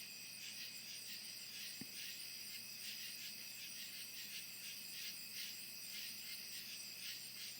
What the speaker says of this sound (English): this cricket stuff in the background is just so soothing